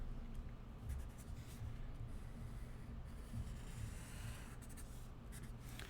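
A marker or pen sweeps across a surface while a parabola is drawn, giving a soft, continuous scratchy rubbing with small strokes and pauses. It is faint and close, with no talking.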